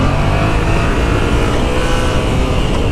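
A 2015 Yamaha FZ-07 motorcycle pulls hard in second gear for a wheelie, its engine a loud, steady roar under heavy wind rush for about three seconds.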